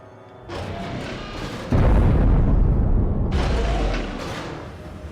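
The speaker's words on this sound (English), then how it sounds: "That explosion probably wasn't anything important." Explosion in the video game Dead Space 3, a sudden heavy boom swelling into a sustained loud rumbling roar that slowly fades out, with no voices heard.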